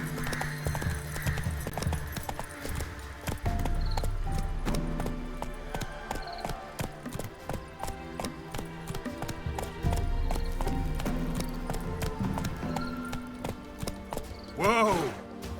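Roach the horse trotting in The Witcher 3, repeated clip-clop hoofbeats in a steady rhythm with a neigh near the end, mixed with game ambience and some voices.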